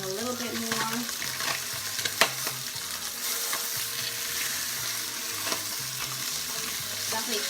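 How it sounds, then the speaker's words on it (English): Escovitch fish frying in a pan, a steady dense sizzle with sharp pops of hot oil breaking out at intervals, close and continuous with no talk over it. "Definitely popping a lot of sound, popping."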